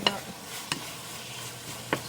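Miso and bitter gourd (goya) stir-fried in a pan, with three or four sharp scraping strokes of a utensil against a soft sizzle, heard up close.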